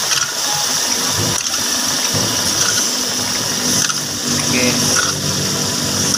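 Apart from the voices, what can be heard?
hand pump pumping CVT transmission fluid into Toyota Vios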